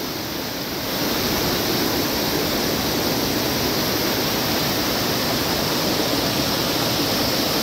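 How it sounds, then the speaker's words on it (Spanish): A double waterfall in Maldonado, Uruguay, pours in a steady, close, loud rushing roar that fills the clip without a break and with no voices. "Tremenda esta cascada"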